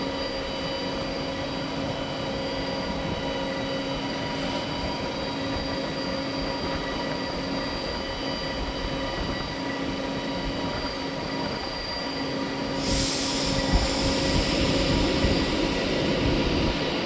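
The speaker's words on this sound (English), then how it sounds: "getting ready to depart out now. It's going to be the 1644 Avanti West Coast service from London Euston to Manchester Piccadilly." An Avanti West Coast passenger train departs a station on the London Euston to Manchester Piccadilly service, its steady rumble and rolling wheels close by, with tonal electric whine and a rise in noise near the end.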